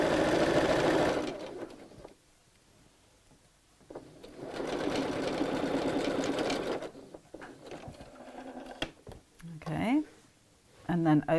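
A sewing machine runs in two bursts of rapid, steady mechanical stitching on a fabric seam, close up, with pauses between and speech near the end.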